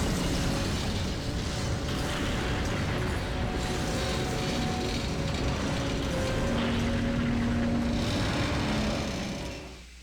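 A Hind D attack helicopter in the Metal Gear Solid video game roars steadily and loudly, a dense rumbling drone that holds for several seconds before fading at the end.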